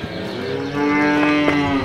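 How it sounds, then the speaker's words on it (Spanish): Tudanca cows on a farm give a loud, sustained moo that runs steadily for the whole stretch, close by with no talking. "una vaca que ganó el Cabezón"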